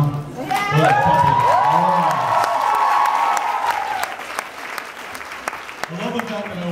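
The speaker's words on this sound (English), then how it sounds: "One more round of applause for Sebastian Brock, huh?" Fan convention crowd at a panel cheering and clapping loudly, with whoops and shouted voices rising over steady applause that fades toward the end as a voice speaks.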